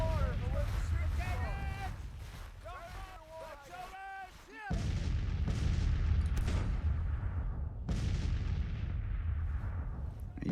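Artillery booms across a Civil War battlefield in Grand Tactician, with several loud, broad blasts rolling out over a steady rumble, alongside sweeping game tones and a voice talking.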